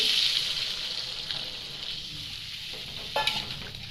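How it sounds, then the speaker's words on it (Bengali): Boiled kidney beans are stirred in a hot frying pan, a steady sizzle with scraping spoon strokes and a sharper clatter near the end, close and alone. "আবার আমি ভালোভাবে নাড়াচাড়া করে নিব।"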